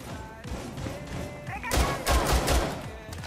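Gunfire in a video game: a quick cluster of sharp, loud shots bursts out over a running background of game noise and players' chatter.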